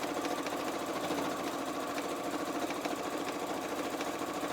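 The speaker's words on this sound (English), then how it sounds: "we're just sewing along that raw edge" A sewing machine stitches a straight line along the raw edge of fabric binding, with a fast, even mechanical whirring and a steady rhythm of clicks heard up close.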